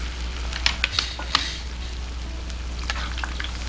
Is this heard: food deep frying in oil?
yes